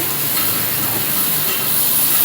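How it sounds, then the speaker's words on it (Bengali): Spice paste sautéed with potato and cauliflower in a pan gives a dense, continuous sizzling hiss, close and loud, with faint stirring scrapes underneath. "আলু ফুলকপি দিয়ে মশলাটাকে ভালো করে কষিয়ে নিচ্ছি"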